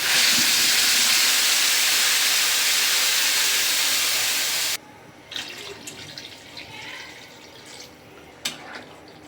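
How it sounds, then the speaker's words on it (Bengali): Water poured into a hot pan of Lida river fish cooked with green tomato hisses loudly as steam for about five seconds, then cuts off abruptly, leaving faint sizzling and scattered clinks. "পরিমাণ মতো জল দিয়ে দিলাম।"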